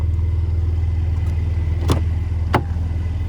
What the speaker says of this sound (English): I actually really love the sound of this twin turbo V6